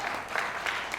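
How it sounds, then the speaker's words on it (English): Audience applause at a film distribution talk on stage, a brief, steady patter of clapping from a moderate-sized crowd. "Give her a round of applause."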